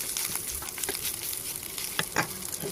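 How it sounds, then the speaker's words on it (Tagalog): Smoked fish (tinapa) being stirred in a frying pan, a steady soft sizzle with light scraping of the utensil and a couple of brief louder clinks near the end, close and unaccompanied by talk. "Haluin natin yung tinapa"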